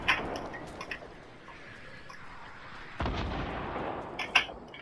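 Gunfire in the Fortnite video game: a few sharp shots crack out over a steady background hiss, with a louder burst near the end, and no voices.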